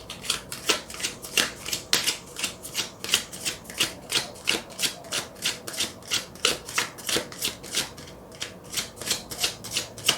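Tarot cards are shuffled by hand in a steady rhythmic series of about thirty soft riffling swishes, close and moderately loud, with a brief pause near the end and no talking.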